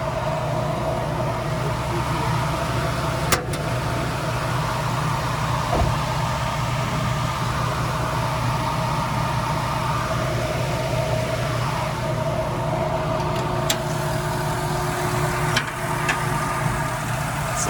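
A 1991 Toyota Land Cruiser HZJ75 with a swapped 6.0 LS engine idles steadily with a low, even rumble and faint mechanical hum, broken by a few light clicks from the fan.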